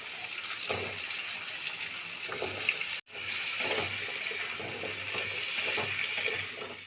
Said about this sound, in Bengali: এবারে আমি এই আলুগুলো দিয়ে দিচ্ছি আলুগুলো একটু ভেজে তুলে নেব